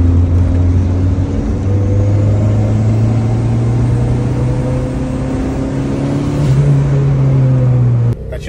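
A Volkswagen Passat engine drones steadily from inside the car, a loud low hum slowly rising in pitch as it accelerates, then dropping off abruptly at the end.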